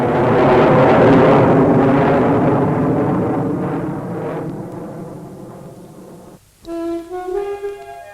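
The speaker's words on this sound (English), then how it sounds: "machines hurtling through the sky" A jet aircraft roars loudly overhead, then fades steadily into the distance as it passes, before music abruptly cuts in near the end.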